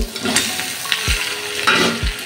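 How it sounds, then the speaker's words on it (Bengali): Fried fish heads tossed into spices frying in a pan, a constant sizzle punctuated by three low thumps and spoon scrapes as they are stirred in, close up. "আমি ভেজে রাখা মাছের মাথাগুলো দিয়ে দিচ্ছি।"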